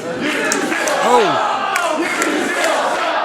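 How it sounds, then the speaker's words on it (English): A wrestling crowd at a student showcase roars loudly at Liam Cross, with sustained jeering and shouting voices swelling through the arena and individual yells rising above the din. "The crowd kind of let Liam Cross know how they feel about him."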